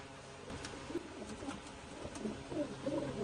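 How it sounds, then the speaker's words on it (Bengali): A pair of adult silver pigeons coo softly nearby, low rolling calls repeating at irregular intervals over a quiet background. "এখানে এক জোড়া সিলভার কবুতর আছে, মাশাআল্লাহ ফুল অ্যাডাল্ট একটি পেয়ার।"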